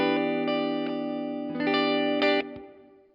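A custom Valiant electric guitar played through a clean, chimey tone, with strummed chords ringing bright and sustained, a few rhythmic restrikes and a final chord cut short, alone and close.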